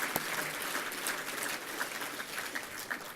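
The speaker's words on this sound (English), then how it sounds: "So let's give him another round of applause," Steady applause from a banquet audience at an annual installation and awards dinner, a dense, even patter of many hands clapping throughout at moderate level.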